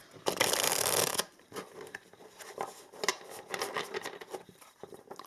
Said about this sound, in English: So I'm going to shuffle a little bit.